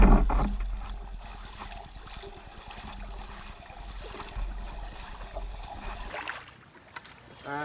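Paddles splash and water sloshes as a canoe of brothers moves down a river, a low, uneven churning with brief knocks and faint voices in the background.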